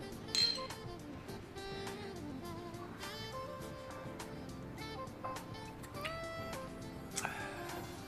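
Glasses clink together in a toast, with a few faint, bright chinks spread through a quiet indoor scene.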